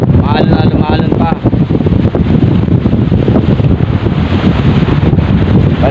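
Strong wind at a seaside fishing spot buffets the microphone with loud, continuous roaring gusts, and a voice speaks briefly near the start.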